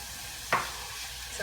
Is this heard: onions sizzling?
yes